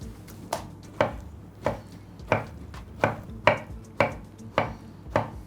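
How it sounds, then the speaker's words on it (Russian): A knife chops vegetables finely on a cutting board in a kitchen, giving about a dozen sharp, close knocks in an even rhythm roughly every half second, with no talking. "Порубим немного помельче и отправляем в глубокую миску."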